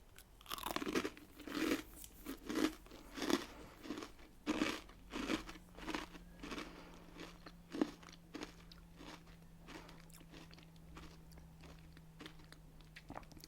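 Crunchy chocolate brittle is bitten and chewed close to the microphone, a series of crisp, rhythmic crunches that are loud at first and then fade into softer chewing, with no talking.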